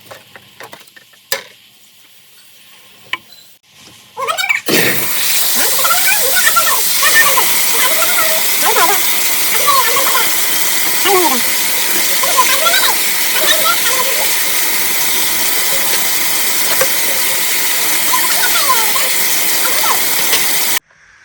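Water gushes steadily from a tap while steel plates are washed by hand, a loud continuous splashing stream that starts abruptly and runs without a break, with faint clinks of dishes.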